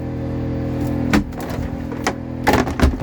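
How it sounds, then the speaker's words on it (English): A petrol generator drones steadily nearby, a continuous low hum with a few knocks and bumps of movement on top of it. "That noise you can hear, by the way, is the petrol generator."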